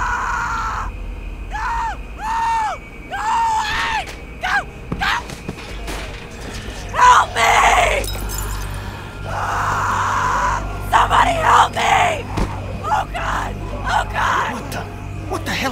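In The Walking Dead video game, a girl screams in repeated rising shrieks, then louder drawn-out cries and yells follow amid game ambience, with characters talking between the outbursts.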